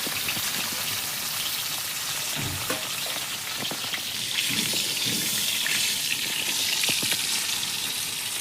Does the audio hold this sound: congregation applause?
no